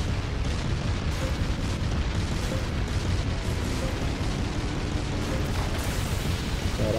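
Dense, continuous barrage of explosions and booming blasts from the fighting game Naruto Shippuden: Ultimate Ninja Storm 4, loud and unbroken throughout with no clear separate gunshots.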